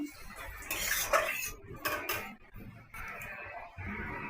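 Cooked okra curry is poured and scraped out of a pan with a spoon, giving a few clinking, scraping bursts of metal on metal. Each burst is close and moderately loud.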